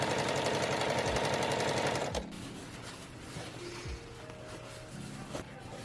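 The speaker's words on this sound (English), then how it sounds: "Just sewing on top of this bias tape by closing off the strap as well as the folded over edge of the bias tape." A sewing machine runs steadily, stitching bias tape onto a wrap dress made from thrifted bedsheets, a close rapid rhythmic whir that stops after about two seconds, leaving faint handling noises and a low background hum.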